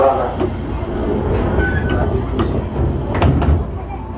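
A KRL commuter train pulls out of Cibinong station with a steady rumble of wagons and rail noise, plus brief higher clanks and squeals toward the end, heard from inside with a faint voice in the background.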